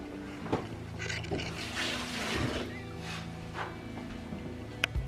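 Vegetables rinsed under a running kitchen tap while preparing fried fish, shrimp and seafood risotto; a steady wash of water runs throughout, with occasional light clatter and a brief sharp knock near the end.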